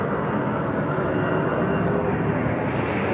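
Steady broadband engine roar of an airplane passing overhead, loud and continuous with no break.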